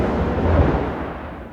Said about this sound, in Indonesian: Ada petir besar kedengarannya.